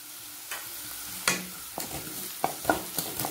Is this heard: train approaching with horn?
no